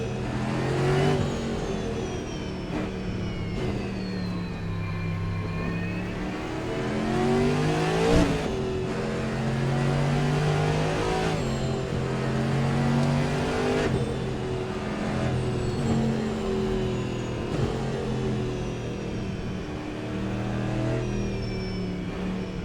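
Virtual Cadillac prototype racer on the Long Beach street circuit, its engine rising and falling through repeated upshifts and downshifts on warm-up laps, loud and continuous with no talking.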